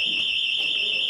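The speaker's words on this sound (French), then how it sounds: "c'est une alarme" An alarm sounds with a steady, shrill, high-pitched electronic tone that holds unbroken for the whole short moment, with faint background noise beneath it.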